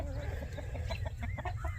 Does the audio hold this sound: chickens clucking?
yes